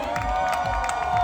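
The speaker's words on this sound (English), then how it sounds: "Let's give a big round of applause to our legends." Crowd cheering and clapping at a Tour de France criterium race in Singapore, a steady dense roar of voices and applause filling the whole moment at close range without letting up.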